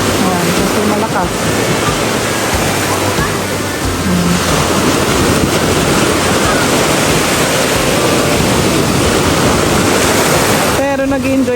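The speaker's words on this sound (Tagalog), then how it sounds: "walang tao dito sa may tubigan kasi malakas yung alon" Strong ocean surf on a beach in Italy roars steadily and loudly throughout, a dense wash of crashing water with faint voices briefly audible at the start and end.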